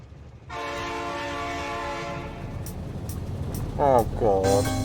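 In Factorio, a train horn blares in a sustained harmonic tone over the rumble of a passing train, then tapers as clicks and a voice talking break in near the end.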